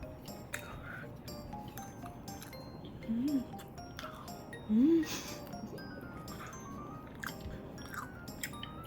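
Someone chews homemade gimbap, Korean rice rolls filled with spinach, carrot, egg, ham and pickled radish, in soft, close, steady bites, with two short hummed vocal sounds partway through.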